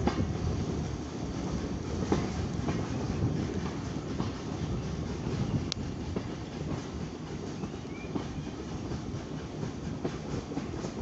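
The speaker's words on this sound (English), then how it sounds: "What a beautiful steam engine journey this is." A steam train rumbles steadily along the rails with a continuous dense roar and faint clicking, heard from close by with wind buffeting the microphone, on the Isle of Wight.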